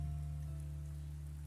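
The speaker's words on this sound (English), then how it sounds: "The rain has picked up." Steady rain falling on a surface in the video game Cinderella Phenomenon, a soft, even patter that holds at constant level with a low hum underneath and no voices.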